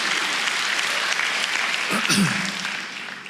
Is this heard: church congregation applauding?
yes